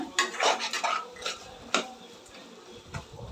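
Metal utensil scraping and clinking against a pan while stirring salt into a spiny eggplant gravy, in short irregular strokes, close up and fairly quiet, with no talking.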